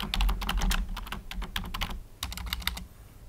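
Rapid, close typing on a computer keyboard as a title is entered, with bursts of crisp key clicks, a brief pause in the middle, then another quick run of keystrokes.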